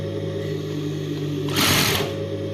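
A sewing machine stitches a churidar neck, a steady low mechanical hum that swells into a louder, brighter whirring burst of stitching for about half a second before easing back, close up and alone.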